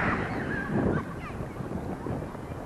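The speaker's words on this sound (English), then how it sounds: "if you can hear me at all, it's a bit windy" Gusty wind buffets the microphone in a steady rumbling roar, rising and falling slightly throughout.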